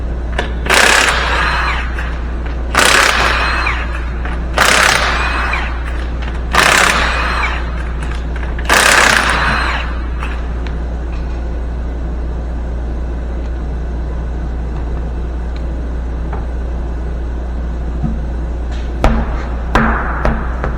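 An impact wrench removes the lug nuts from the driver's side wheel of a 2016 Subaru WRX: five loud, close, rattling hammering bursts about two seconds apart, followed by quieter workshop hum and a few faint clicks near the end.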